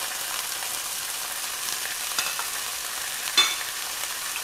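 Onion and cilantro frying in a pan for tostadas, a steady close sizzle with occasional soft scrapes and one sharper stir toward the end, no voices.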